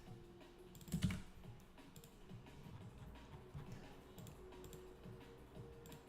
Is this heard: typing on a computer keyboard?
yes